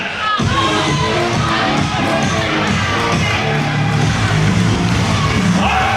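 A wrestling crowd at a summer show cheers and yells loudly and without a break, with whoops and shouts over a steady roar and an announcer's voice faintly mixed in.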